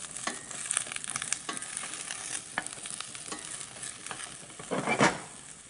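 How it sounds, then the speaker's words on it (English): Vegetables searing in a pan for a braise, a steady soft sizzle with intermittent stirring scrapes and a louder hiss burst near the end, no talk. "So you want to sear it a little bit, let it get a little bit of color."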